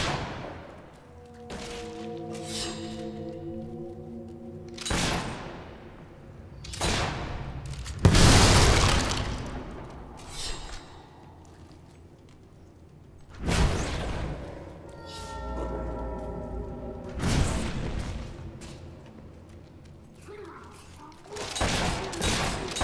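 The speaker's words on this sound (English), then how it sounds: "Keep up that shooting and we'll be rid of them in no time" Heavy gunfire and booming blasts in a Fable 3 battle, a series of loud, spaced bursts and thuds rising and fading several times, with sporadic voices and music-like tones between volleys.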